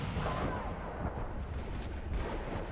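Grenade explosions and gunfire in a competitive video game match, a dense continuous barrage of rumbling blasts and shots filling the whole stretch at moderate loudness.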